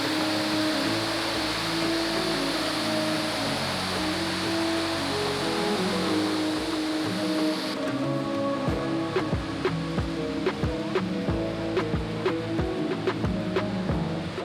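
Rushing water at the Ouzoud waterfall near Marrakech, a dense steady broadband roar that fills the whole clip, with faint clicks and knocks scattered through the second half.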